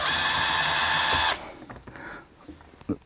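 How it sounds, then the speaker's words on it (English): A power drill whirs loud and steady while unscrewing bolts during a Pioneer double-DIN car radio install, cutting off abruptly after about a second, followed by quieter handling clicks and a sharp knock near the end. "I just have to use my drill and unscrew"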